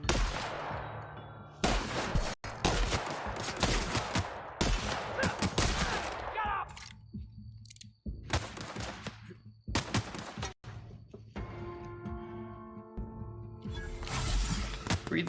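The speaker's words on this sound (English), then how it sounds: "This is a shotgun." Shotgun blasts in The Outer Worlds, several loud sharp booms spaced a few seconds apart amid broader combat gunfire, with ringing tails and quieter gaps between shots.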